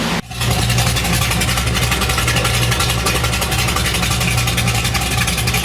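A 406 cubic inch small block Chevy V8 built for a NASCAR car idles loud and close, a steady, even low rumble that starts abruptly and holds without a break.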